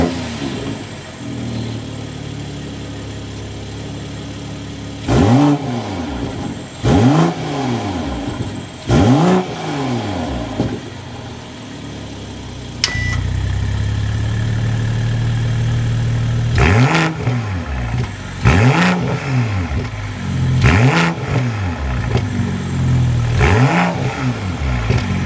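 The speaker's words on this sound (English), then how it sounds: "Let's go inside, start it up, so you can hear that exhaust note." A 2023 BMW M440i Gran Coupe with a 3.0-liter twin-scroll turbocharged inline-six starts up, then gives a series of sharp throttle blips that rise and fall. Between revs it settles into a steady idle, with a loud, close exhaust note.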